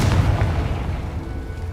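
A Confringo explosive spell goes off in Hogwarts Legacy, a single deep booming burst at the start that rumbles and fades over a second or so, with no talking.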